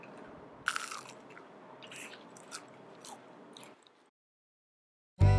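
Delhi-style crispy french fries being bitten and chewed up close, a sharp crunch near the start, then softer munching that fades to silence before a loud noise at the very end.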